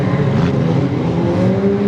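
Demolition derby cars race around a track on the final lap, a loud, steady roar of engines up close with no clear break.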